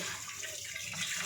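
Tap water splashes steadily over rice being rinsed, a short, soft run of continuous flow and trickle.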